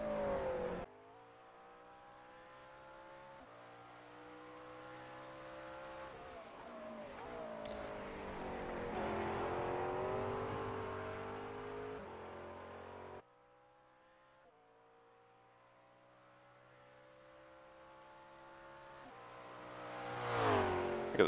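A McLaren MP4 12C GT3 race car in iRacing laps Bathurst, its engine droning and revving through gear changes with rising and falling pitch, loud and steady throughout.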